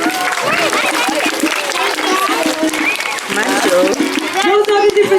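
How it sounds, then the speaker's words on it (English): Audience applause and cheering at a sea lion show, a steady crowd wash with voices and whistles mixed throughout, fairly loud and close. "Should we give them a round of applause?"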